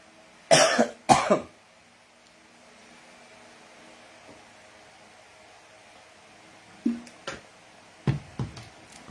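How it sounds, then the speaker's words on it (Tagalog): A person with a cold coughs in two sharp, loud bursts, then after a long quiet gap gives several smaller coughs and throat-clearing sounds in a quiet room. "Sorry po, may ubo tayo, sipon."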